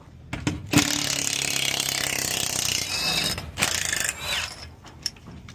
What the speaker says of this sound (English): We got to get this bolt out.